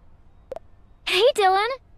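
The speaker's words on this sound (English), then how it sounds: "This is Missy, my neighbor's cat." A cat named Missy meows in the Bratz: Flaunt Your Fashion video game: a short chirp, then two clear drawn-out meows close together, up close and alone against quiet background.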